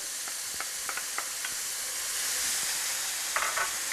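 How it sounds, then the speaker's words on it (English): Crushed tomato is added to seared goulash meat in a hot pan, a dense close sizzle with a series of light scraping stir clicks through it and no talking. "So I add my crushed tomato"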